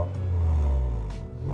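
A 2007 Honda Jazz GD with a VTEC engine idles and revs in a steady, close low rumble that swells slightly and then eases over a second and a half, with no talk.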